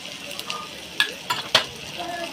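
Chili powder chutney stirred into hot tempering oil with asafoetida for dal tadka, a steady close sizzle with a few sharp clinks of a spoon against the pan.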